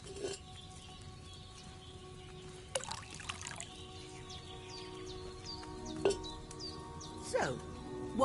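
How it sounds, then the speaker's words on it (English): Wine poured into a cauldron in the video game Kingdom Come: Deliverance, a faint, thin trickle with a few light splashes and distant birdsong behind it. "So, what did you pour in there? Wine, of course."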